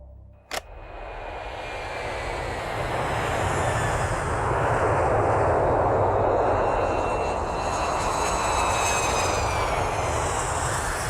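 A propeller airplane engine drones steadily and loudly throughout, swelling slightly midway, after a sharp click at the start.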